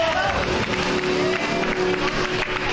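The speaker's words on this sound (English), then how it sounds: "The crowd showing their appreciation for Remy D." Wrestling crowd at a live pro wrestling show applauding a champion after a big win, a dense continuous wash of clapping and cheering with loud, steady energy throughout.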